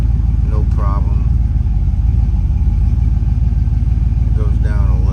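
A 2000 Silverado with a Truck Norris camshaft idles with a steady, lumpy low rumble that sags slightly and recovers. A voice speaks briefly over it twice.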